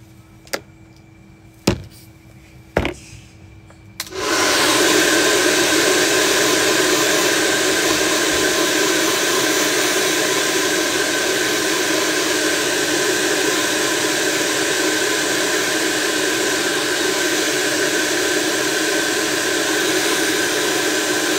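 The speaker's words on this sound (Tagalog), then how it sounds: "Chipipay lang kasi yung blower ko" A cheap hair dryer in use since about 2020 switches on after a few sharp clicks and knocks, then blows with a steady, loud broadband whoosh that runs unbroken to the end, with no talking.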